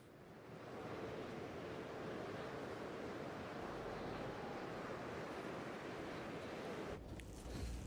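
Strong wind blows continuously across an open landscape in a video game, a loud, broad rushing noise that rises in the first second and holds steady, with a short bump near the end.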